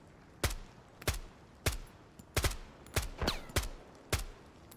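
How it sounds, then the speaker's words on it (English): Eight sharp gunshots ring out in the video game Road to Vostok, spaced irregularly about half a second to a second apart, loud and near, with no talk. "Somebody shooting at me."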